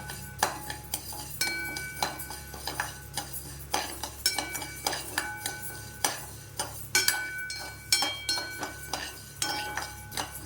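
Lentils roast over low heat while a metal spoon stirs them around a pan, giving repeated clinks and scrapes in an irregular rhythm over a faint background hiss.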